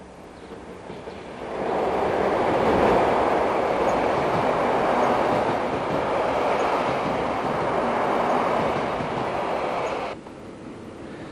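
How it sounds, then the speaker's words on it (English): A long freight train hauled by a Dutch 1300 class electric locomotive rumbles past steadily near Amsterdam, a broad rolling roar that swells in, holds for several seconds, then drops away abruptly. "This long freight train is being hauled by a 1300 class locomotive."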